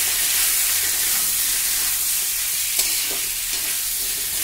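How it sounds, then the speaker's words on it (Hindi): Cut potatoes and spices for an aloo pyaz sabzi fry loudly in a pan as they are stirred, a dense steady close sizzle with a few soft scraping stirs, no voices. "अच्छी तरह सब्जी को चलाएंगे।"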